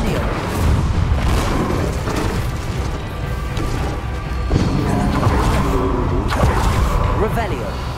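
Incendio fire spell cast in the video game Hogwarts Legacy, a heavy whooshing burst with crashing impacts and rumbling combat effects, loud and close, with voices over it.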